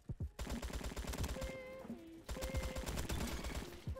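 Rapid, loud machine-gun fire in the Roblox shooter Bad Business, an RPK-74 rattling out continuous rhythmic bursts close up with a short pause midway, alongside ringing tonal game effects.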